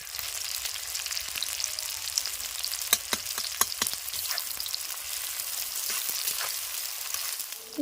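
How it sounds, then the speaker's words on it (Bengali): Steady close-up sizzling of onions and chicken frying in a pan, a constant crackling hiss with occasional sharper pops and spatters, no voices. "পেঁয়াজ কুচো করে রেখেছি ভেজে তারপর রান্নাটা করবো"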